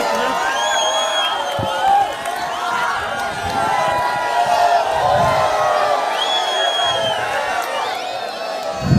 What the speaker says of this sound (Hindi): हिंदुस्तान के मकबूल रहनुमा पुरजोर तालियों में इस्तकबाल करें।